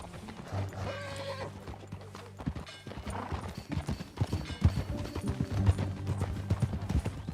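Horse hooves clip-clop in Red Dead Redemption 2 in a steady, quickening rhythm close by, growing louder and busier toward the end.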